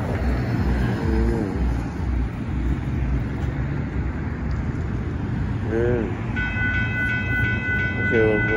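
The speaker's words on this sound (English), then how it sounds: "Here comes another train coming." A northbound Union Pacific intermodal freight train rolls past at Dittmar Road, a steady loud rumble of rail cars throughout, with passing road traffic and some voices mixed in near the end.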